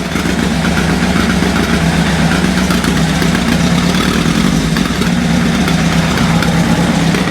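An old engine idles steadily just after starting up, with a slightly uneven beat as if one cylinder is misfiring, loud and continuous throughout with no talk.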